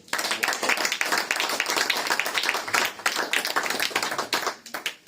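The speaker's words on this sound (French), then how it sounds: "Est-ce que quelqu'un peut acclamer pour Jésus?" Church congregation clapping enthusiastically in praise of Jesus, a dense, continuous patter of many hands with faint cheering, sustained for several seconds before thinning out near the end.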